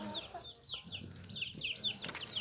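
Chickens and a small red rooster in a backyard coop, giving a string of soft, rhythmic clucks with brief wing flutters at close range over low background noise.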